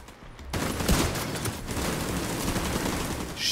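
Rapid sustained turret gunfire in the video game The Division 2, a dense, continuous burst of shots starting abruptly and running loud to the end, with no talking.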